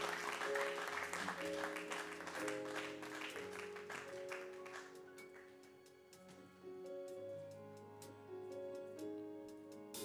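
A church congregation at a French-language service claps and cheers for a family, with a dense burst of applause at the start fading under sustained organ or keyboard chords, with no speech over it.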